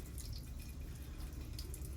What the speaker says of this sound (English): when you water these, I really need to soak them